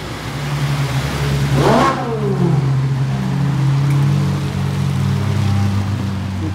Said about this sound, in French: Ça, c'est la GTR qui gueule.